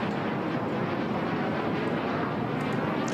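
A HAL Tejas fighter jet makes a low-speed pass in front of the stand at an air show, about 500 feet up, giving a loud, steady broadband jet roar that holds throughout with no talk.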